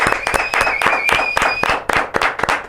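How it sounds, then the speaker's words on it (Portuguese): An audience claps for Busnello in a steady run of sharp, loud, close claps, with a high tone sustained underneath. "uma salva de palmas para o Busnello aqui"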